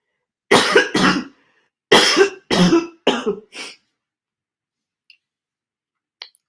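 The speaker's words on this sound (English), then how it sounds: "now I start coughing" Several harsh coughs from a person with draining sinuses, in close bursts, two or three at a time, loud and near, followed by silence and a couple of faint clicks.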